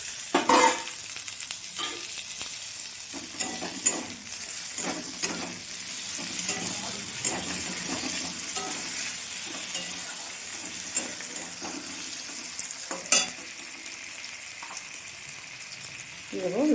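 Chopped tomatoes go into a pan of fried onions and sizzle steadily as the spoon stirs and scrapes now and then, close and continuous.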